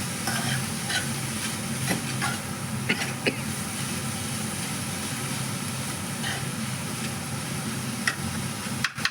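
Turmeric stirred into a frying mixture in a pan, soft scraping strokes over a steady background sizzle, moderately quiet and close.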